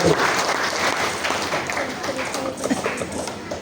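Church congregation at an Indonesian Christian sermon clapping together, a full burst of applause that gradually thins out, with some murmuring underneath.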